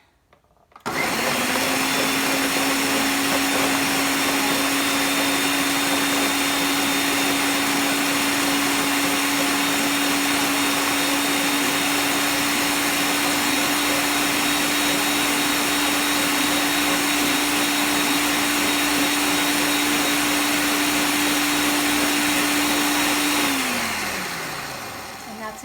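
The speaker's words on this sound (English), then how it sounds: "there's kind of a little balance to not overdoing it with the high power blender" A high-powered blender blending oat milk whirs steadily and loudly for about 25 seconds, its motor pitch holding constant before winding down at the end.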